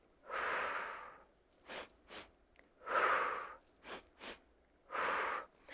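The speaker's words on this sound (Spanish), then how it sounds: "son dos respiraciones, dos inhalaciones cortas y exhalo más fuerte" A breathing exercise with short inhalations through the nose and stronger exhalations, heard as close, breathy puffs in an uneven rhythm: long airy exhales alternating with quick sniffing inhales, alone without talk.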